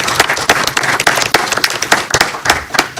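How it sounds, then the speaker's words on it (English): Audience applause for five school board members receiving a governance award at a board meeting, steady dense clapping from a crowd for about three seconds without talk. "give these 5 folks a round of applause for their fine work to that end"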